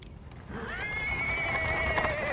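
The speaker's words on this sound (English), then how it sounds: "A cart, drawn by a sad little horse, appears from around the corner." A horse whinnies in Pathfinder: Wrath of the Righteous as a small horse pulls a cart along paving stones, a long, clear neigh rising and holding steady over faint background noise.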